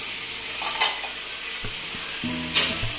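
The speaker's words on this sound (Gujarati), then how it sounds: "હવે કોબી સોતરાઈ ગઈ તેલમાં" Shredded cabbage fries in hot oil in a pan, making a constant close sizzle with occasional stirring scrapes and a faint low hum in the background, with no talking.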